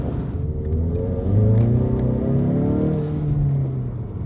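A 2017 Ford Mustang EcoBoost Performance Package with a six-speed manual pulls at half throttle in sixth gear, a steady low engine drone rising slightly in pitch and holding loud and close throughout, with no talk.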